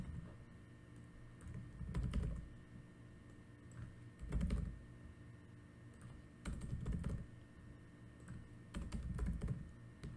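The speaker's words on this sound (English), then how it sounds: "using the arrow keys, I'm clicking up, down, left, right" Arrow keys clack on a computer keyboard in several close, quick clusters of presses separated by brief pauses, with no talking.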